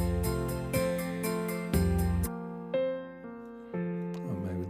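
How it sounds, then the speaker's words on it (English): Sustained piano chords ring out, struck in a steady sequence and left to decay, with a bright tinkling flourish near the end. "There is the piano too."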